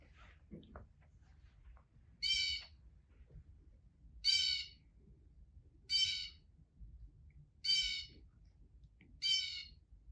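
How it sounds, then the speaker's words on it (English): A harsh, jeering bird call repeats five times at steady intervals, each a loud burst standing out against quiet outdoor background noise. "the bird has this kind of jeering sound, and it sounds like thief, thief"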